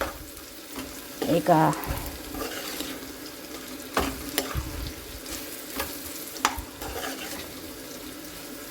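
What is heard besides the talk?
bitter gourd frying in oil in a pan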